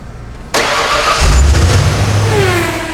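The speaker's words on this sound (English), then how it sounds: "now we're going to start the Bronco so the oil can build up and build pressure inside the oil pan" A Ford Bronco's engine cranks and catches after a brief quiet moment, then settles into a loud, steady idle with a rising and falling whine.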